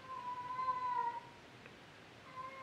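A cat lets out a drawn-out tonal meow lasting about a second, then a fainter one starts near the end, indoors and moderately close.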